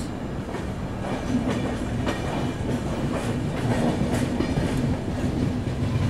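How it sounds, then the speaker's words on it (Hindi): The Kanyakumari-Dibrugarh Vivek Express pulls out of Mariani Junction with a steady rumble and rhythmic clickety-clack of carriages over the rails, continuous and fairly close, with no voices. "मरियानी जंक्शन से निकलते हुए अपनी कन्याकुमारी डिब्रूगढ़ विवेक एक्सप्रेस"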